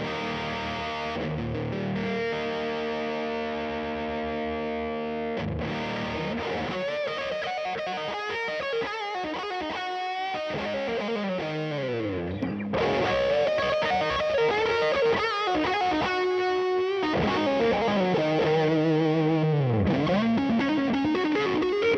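An electric guitar lead through a Catapulp overdrive pedal on a pedalboard plays a distorted, sustained solo line with bends and fast runs, loud and steady throughout. No talking.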